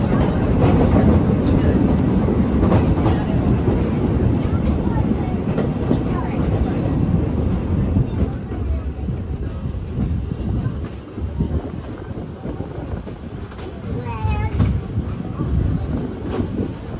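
A Magic Kingdom Railroad steam train rumbles and rattles steadily along the tracks, a continuous close clatter with faint squeals rising here and there.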